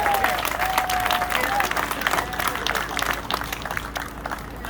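An audience at Frog Creek applauds its departing winter community: steady, full applause from a crowd close by that holds for several seconds, with voices and a brief whistle-like tone near the start.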